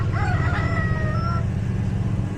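A rooster crows once, close and loud, its call rising then trailing off over a low steady outdoor hum, with no talking.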